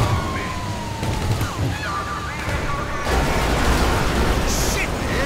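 A police siren wails in the video game GTA V, with rising and falling tones under engine and street noise, and people talk over it throughout.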